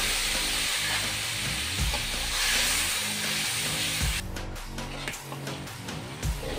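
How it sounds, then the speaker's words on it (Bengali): Whole cumin and spices are frying in hot oil for a cotton stalk fish curry, giving a steady, loud close sizzle and hiss, with stirring scrapes audible near the end. "তেলে জিরে পোড়া হয়ে গেছে, এখন দিয়ে দেবো মশলাগুলো"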